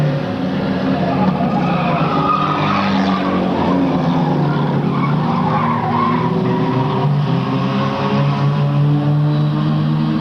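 A race car skids and slams into the wall on the front stretch during a 1998 oval race. Loud, continuous engine roar and tire squeal fill the whole stretch, with other cars howling close by.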